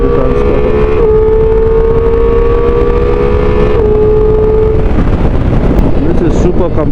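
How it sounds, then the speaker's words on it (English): A 2025 Ducati Multistrada V4S carries a rider and passenger on the road. A steady engine drone with a shifting pitch sits under loud, constant wind roar buffeting the microphone. "So Sam is sitting with me pillion on the Multistrada V4"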